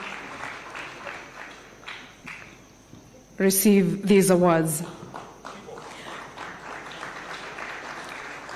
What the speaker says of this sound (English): A round of applause as they go to